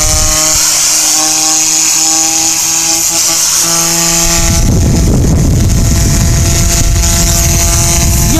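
A hand spinner toy whirs at very high speed, a loud steady hum with a rising pitch, the whirr growing rougher and more forceful partway through, heard alone without talk.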